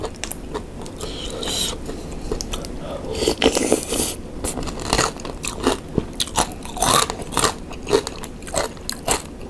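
Crunchy fried garlic being bitten and chewed up close, loud irregular crackling crunches in quick bursts with short pauses between.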